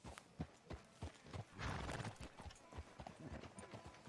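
Horse hooves clip-clop steadily at a walk in Red Dead Redemption 2, close but fairly quiet. A brief whinny cuts in partway through, with no talk.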